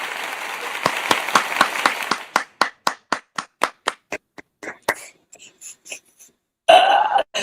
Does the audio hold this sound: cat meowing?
no